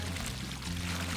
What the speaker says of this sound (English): I've got a bucket full of water. I'm going to pour it in on the high side.